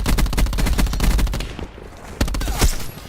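An SOG gun fires in a first-person shooter, loud rapid automatic bursts in quick rhythmic succession, a brief pause, then another fast volley.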